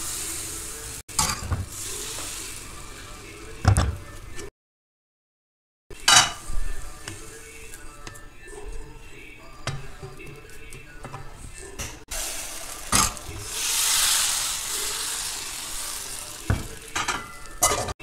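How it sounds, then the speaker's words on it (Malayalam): Thin rice and coconut neer dosa batter hits a hot pan and hisses loudly and steadily, with occasional knocks and scrapes of a utensil. A brief silent gap breaks it before the close sizzling resumes. "അപ്പോൾ കുറച്ച് മാവ് ഒഴിച്ചു."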